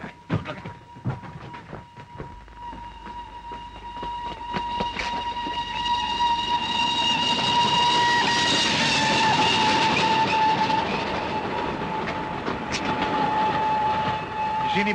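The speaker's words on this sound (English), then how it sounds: "A down express and it'll be here any minute." An express steam train approaches and rushes past, its whistle sounding in long tonal blasts over a rising rumble of wheels that swells loud and close.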